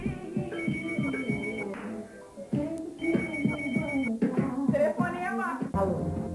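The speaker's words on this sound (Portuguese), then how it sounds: "Telefonema! Alô?" A telephone rings in repeated bursts, each a clear ring separated by short gaps, moderately close, with voices and other sounds mixed in around it.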